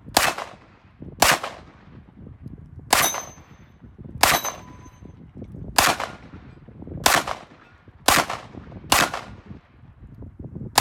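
An EAA Tangfolio Witness Hunter 10mm handgun fires about eight loud, sharp shots on an outdoor range, spaced roughly a second apart, with some rounds followed by faint metallic rings from steel plates downrange.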